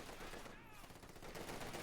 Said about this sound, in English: Fallschirmjaegers pointlessly firing at the T-45